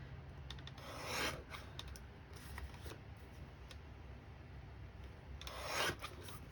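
Paper photos being trimmed down for a mixed media craft project give soft rasping, rubbing cuts, with two louder swishes among quieter scraping, close and faint, with no talking.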